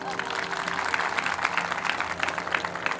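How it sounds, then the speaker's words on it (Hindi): Light, scattered applause from an audience at a Bhagavat Katha spiritual gathering, soft steady clapping under a low murmur of voices, modest in volume throughout. "इतनी हल्की फुल्की तालियां"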